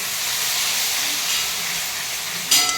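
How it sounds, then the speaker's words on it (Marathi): Masala for mutton curry roasting in oil over high heat in a pan, a loud steady sizzling hiss throughout, with a brief burst of stirring near the end. "मसाला छान भाजून घ्यायचं"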